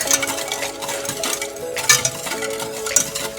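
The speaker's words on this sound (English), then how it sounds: "I think the most appropriate tool now is" A whisk stirring and thickening sauce in a pan for spicy sesame tofu, quick repeated scraping and light metallic clinks close by, with a low steady hum underneath.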